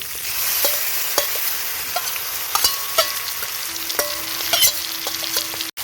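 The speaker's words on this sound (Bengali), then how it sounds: "মশলাটা দিয়ে এখন ভালো করে নেড়ে নেবো" A mixed spice paste is stirred into frying food in a pan, with a steady sizzle under repeated spatula scrapes and light metallic taps, close up and with no talk, ending in an abrupt cut.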